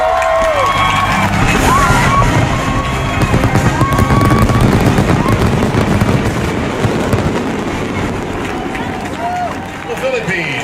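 A fireworks display by Dragon Fireworks at an international competition in Quebec, with loud continuous crackling and booming bursts and whistling shells, mixed with a cheering, whooping crowd throughout.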